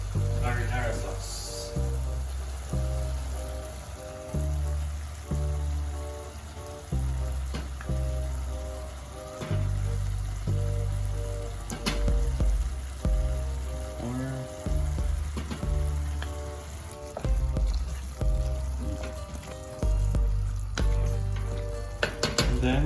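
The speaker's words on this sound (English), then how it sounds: "we are going to add marinara sauce." Marinara sauce poured into a frying pan for a homemade lasagna Bolognese, bubbling and sizzling steadily with repeated scrapes and stirs of a utensil against the pan, while a person talks over it.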